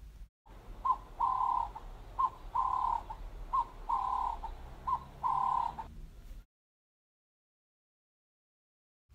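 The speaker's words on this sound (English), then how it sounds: ""Yes, this is my nest," tweeted the bird." A bird in a children's story calls from its nest with about six short, tonal cooing or tweeting phrases in an even rhythm over a low background, then it falls silent.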